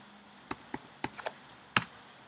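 Several isolated keystrokes on a computer keyboard as a value is entered, sparse separate clicks with one firmer tap near the end, close and fairly faint with no talk.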